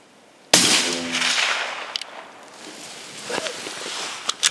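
One loud, sharp rifle shot from a Sig Cross chambered in 6.5 Creedmoor firing Hornady ELD-VT ammunition, with a booming report that rolls and echoes across an outdoor range, followed by faint rustling and small clicks.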